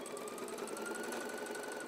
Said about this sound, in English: I've just been listening to that sewing machine whirring away there